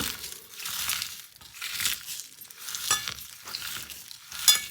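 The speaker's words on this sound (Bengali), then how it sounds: "লবণ দিয়ে আমি মরিচটাকে ভালো করে ভেঙে নিব" Fried chilies are crushed with salt by hand for a mash, giving steady gritty crunching and squishing strokes up close in repeated bursts, with no voices.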